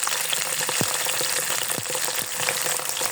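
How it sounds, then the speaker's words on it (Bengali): Sliced onions stirred and browned in a pan of oil while cooking pangas fish bhuna, a continuous sizzle broken by a few soft scraping strokes of the spoon, close and without voices. "এখন ভালোভাবে নেড়ে চেড়ে নিব, বাদামি কালার করে নিব।"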